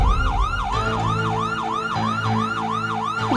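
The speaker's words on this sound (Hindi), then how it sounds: "गोकुल धाम सोसाइटी में पुलिस के सायरन की आवाज" Police siren wailing at Gokuldham Society, a loud close rising-and-falling electronic wail repeating in quick regular cycles with an engine rumble beneath.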